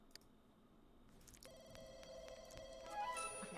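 Telephone ringing in The Sims video game, a quiet electronic ring pulsing in rapid repeated tones after a brief silence, faint and alone with no talk.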